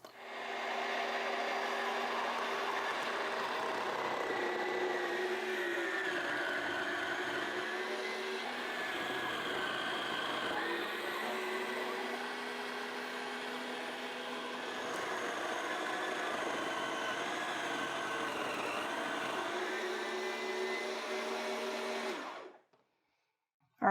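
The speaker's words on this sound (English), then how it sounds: "this is like just a real fruit soft serve machine" A fruit soft serve machine whirs loudly and steadily as it processes frozen strawberries and bananas, a constant motor drone with shifting grinding tones that stops abruptly near the end.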